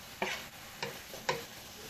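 Tough Ethiopian cabbage greens frying and being stirred in a pan for a vegan dish, with three short scraping, sizzling bursts spaced about half a second apart over quiet background.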